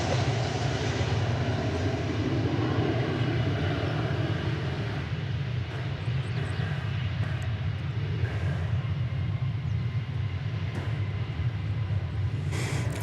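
A jet airliner takes off at DFW Airport, producing a continuous distant engine roar with a steady low rumble that holds for the whole stretch, with faint tower radio chatter in the background.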